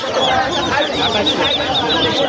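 Eighteen-day-old Chinese ducklings at a weekly market give busy, overlapping high peeping calls up close, loud and continuous, with market chatter around them.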